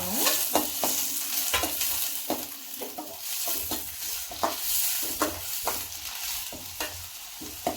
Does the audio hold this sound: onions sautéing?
yes